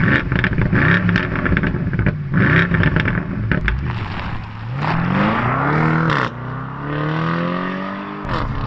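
A 2020 BMW M850i xDrive convertible accelerates hard, its engine revving loud and close with rising pitch sweeps through the gears, a brief dip mid-run, then climbing again, with no talk.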